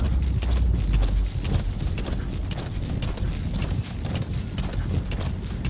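Rapid, rhythmic hoofbeats of a galloping horse in Metal Gear Solid V pound steadily under a low rumbling backdrop, close and loud throughout.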